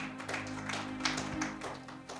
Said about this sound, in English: Can we clap hands for them in the name of the Lord?